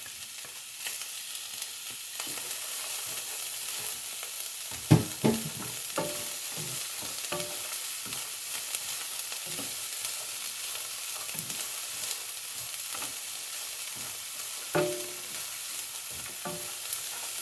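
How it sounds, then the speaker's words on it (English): Diced celery frying in a pan for a pasta sauce made from garden tomatoes. A steady sizzle runs the whole way through, broken by scattered scrapes and knocks from stirring, with a couple of louder clacks. "got some diced celery. Go ahead and get that in there."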